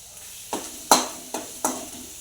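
Cumin, mustard seeds, curry leaves and onion hit hot oil in a pan, sounding as a close sizzling hiss broken by four sharp stirring scrapes.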